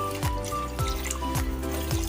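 Water pours into a cooking pot, about 1.5 liters being filled for boiling, with a steady trickling stream and a rising pitch as the pot fills, heard up close with no talking.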